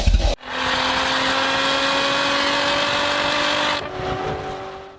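A BMW 540 V8 in a drift wagon project with a manual swap cranks and fires for the first time, a sharp start followed by a loud steady idle with strong harmonic tones, then a slight drop in revs near the end.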